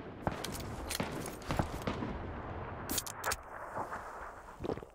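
Distant gunfire in the PUBG battle-royale game, heard as faint, scattered sharp pops and short bursts spread irregularly over a quiet background.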